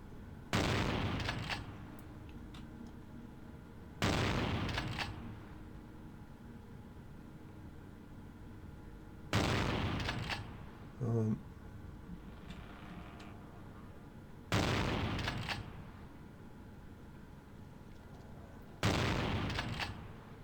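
An enemy's gun in Vampire the Masquerade: Bloodlines fires in five separate loud bursts spaced several seconds apart, each a sharp blast trailing off, with quiet background between them.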